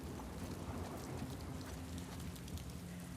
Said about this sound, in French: avec le bruit de l'orage on va rien entendre s'il y a des ennemis